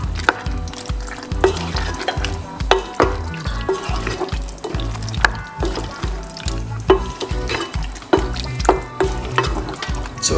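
Chopped tinned tomato being stirred around in a stew pot with eggplant, giving continuous wet, close-up scraping and sloshing with rhythmic low thumps of the spoon, steady and fairly loud throughout with no talking.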